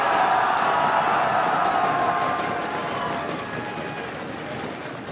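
A large esports crowd cheers loudly and continuously for TSM at a League of Legends tournament match, a dense roar of voices that slowly fades a little toward the end.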